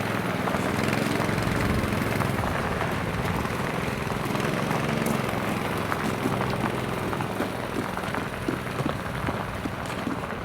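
A motorcycle engine drones steadily and loudly as it escorts a heavy truck, a continuous rough motor note with wind and road noise mixed in throughout.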